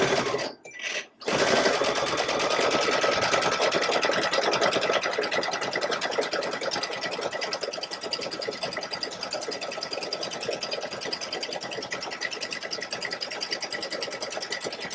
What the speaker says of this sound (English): I'm going to start stitching off the fabric and end off the fabric.